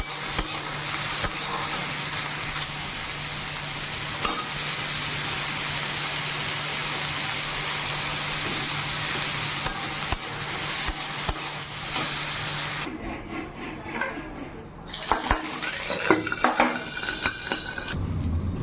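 Bitter gourd frying in a pan with dry red chilli and black cumin, a steady close sizzle with occasional stirring and clinks, continuous for most of the span before quieting briefly and resuming.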